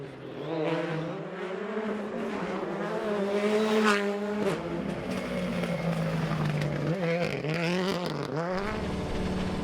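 Rally cars race on a tarmac stage in Galway during the Irish Tarmac Rally Championship; engines rev and climb through gears loudly and continuously, with pitch swells as they pass, under a faint voice.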